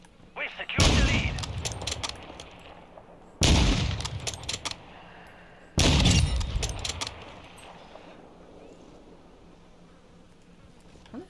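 Gunfire in Call of Duty MWII multiplayer: three sharp, loud bursts of rapid shots a couple of seconds apart, each cutting off abruptly, with a low game ambience continuing after.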